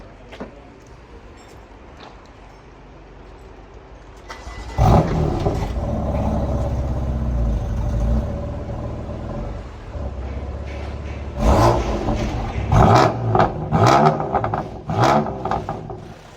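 A BMW M4 engine cranks and starts with a burst, then idles and is revved in several sharp rising blips, close and loud.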